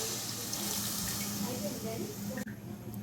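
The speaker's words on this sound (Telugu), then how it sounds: "ఇప్పుడు వాటర్ వేసుకుందాం చూడండి చెంబు వాటర్ వేసుకున్నాను" Water tipped from a small pot into a pan of chicken feet and head curry that has been cooking in oil, a steady rushing pour with some sizzle that ends abruptly near the close.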